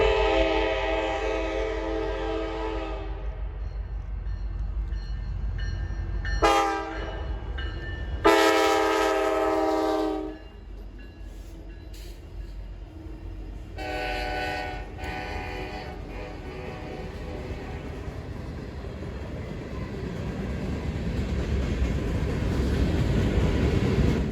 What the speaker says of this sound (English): caught train 130 coming south with 4 SD70 Max up front